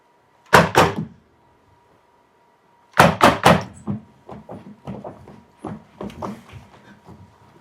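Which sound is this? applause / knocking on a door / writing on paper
knocking on a door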